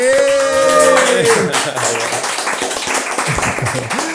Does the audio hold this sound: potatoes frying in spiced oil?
no